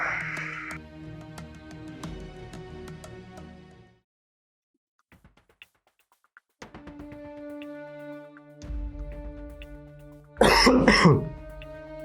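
A man coughs and clears his throat, with a burst of harsh rasping near the end after stretches of humming tones and a brief quiet gap.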